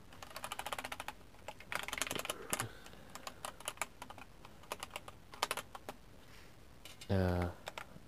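Keys clacking on a dark computer keyboard connected to an Xbox, in irregular bursts of close, crisp taps with a brief louder buzzing thump near the end.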